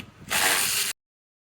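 A ratchet wrench turns E-Torx valve cover bolts on a Chevrolet Cruze engine, giving one short burst of fast, close clicking that stops abruptly.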